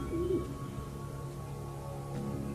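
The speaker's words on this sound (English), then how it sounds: "These are real doves." Real doves in a magician's special box give a short, low coo near the start, followed by a quiet, steady background hum.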